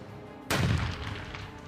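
A single sharp blast of heavy weapons fire during a military offensive in Iraq, a sudden loud crack followed by a rumbling decay that lingers for over a second.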